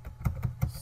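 Code typed on a computer keyboard in MATLAB: three distinct, evenly spaced key taps, close and moderately quiet, with no speech.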